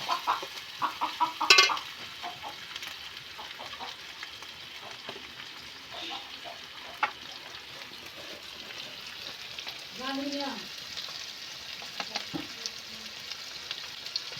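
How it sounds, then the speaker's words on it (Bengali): Garlic and shrimp frying in a pan, a soft steady sizzle with intermittent stirring scrapes, and a chicken clucking in the background a few times; no talking. "রসুন, চিংড়ি দিয়ে আমি ভালো করে এগুলো ভেজে নেব"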